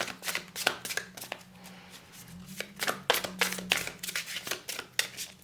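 Tarot cards are shuffled by hand in quick riffling bursts, a rapid run of crisp close flutters and slaps separated by a short pause, with no talk over them.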